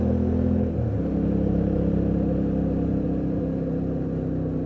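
A Yamaha Tenere 700 motorcycle rides on a street, its engine giving a steady, loud mid-pitched drone with one shift in tone near the start, then an even hum. Road and wind rumble sit underneath.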